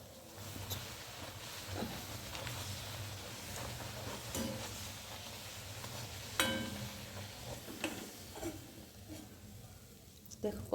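Pea-stuffed kachori (koraishutir kochuri) fry in hot oil with a soft, continuous sizzle, low and fairly faint, broken by occasional light clicks of a utensil.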